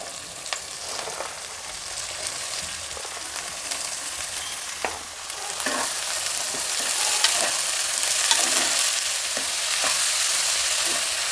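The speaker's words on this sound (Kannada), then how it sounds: "ಒಗ್ಗರಣೆಯಲ್ಲಿ ಕಾಳನ್ನು ಚೆನ್ನಾಗಿ ಹುರಿಬೇಕು" Field beans being fried and stirred in a tempering of hot oil for Tumkur-style avarekalu usli: a steady close sizzle with scattered scraping clicks of a spoon against the pan, no voices.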